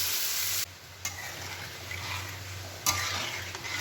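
Egg and small potato curry sizzles steadily in a pan while being fried down with spices, a continuous close frying hiss with a few brief stirring bumps and scrapes.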